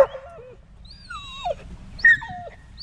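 Dogs at a riverside spot along the Withlacoochee near Yankeetown give a few high, sliding whines and yips spread out over a few seconds, fairly faint and with no talking.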